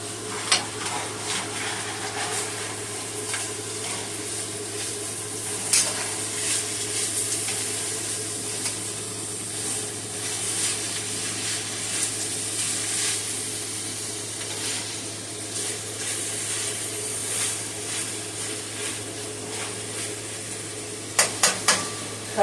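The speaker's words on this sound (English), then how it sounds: "I'm going to go ahead and give my cabbage a nice stir" Cabbage sizzles in a pan while being stirred, giving a steady frying hiss broken by occasional scrapes and knocks of the utensil against the pan. No one speaks.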